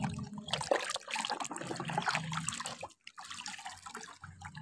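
Water splashes and trickles steadily while toy cars are washed clean. The sound stays close and continuous with brief pauses, and there is no speech.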